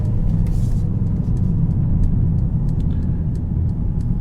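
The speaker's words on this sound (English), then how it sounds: "So we're dropping down to 2nd for this roundabout." Loud, constant engine drone inside a 2022 Mercedes CLA45 as the driver downshifts to second gear with the paddle shifters approaching a roundabout, with faint ticks and clicks over the heavy low rumble.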